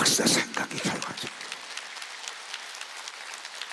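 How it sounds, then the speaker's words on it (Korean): A church evangelistic rally audience bursts into loud clapping, strongest at the start, then fades quickly to a softer, thinning patter of hands. "박수 치려면 세게 좀 치라고"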